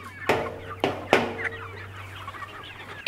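A backyard chicken clucks in a few sharp, irregular bursts with short squawky calls in between, close by outdoors, ending in a louder final squawk.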